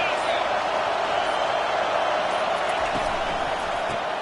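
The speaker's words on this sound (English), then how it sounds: "this crowd is turning it up a notch" Football stadium crowd at Clemson vs. LSU, a dense, steady roar of many voices filling the air continuously, loud and sustained throughout with no single voice standing out.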